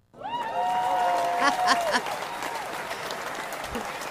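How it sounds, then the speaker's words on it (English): Applause and cheering from a live TV studio audience, steady for a few seconds with a whoop rising over the clapping, then slowly thinning out. "Let's give them a big round of applause to welcome them on the air."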